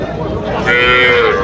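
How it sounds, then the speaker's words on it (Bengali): A cow lows at a busy cattle market, one short loud moo rising midway over crowd murmur and background voices. "প্রচুর পরিমাণে গাভী গরু আছে টেপাখোলা গরুর হাট"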